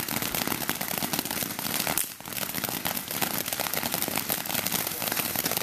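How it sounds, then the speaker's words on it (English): Backyard fireworks in Connecticut crackle nonstop, a dense, steady hail of sharp snaps and pops with one brief lull midway, heard up close and loud, with faint voices in the background. "please clap your hands for the fireworks"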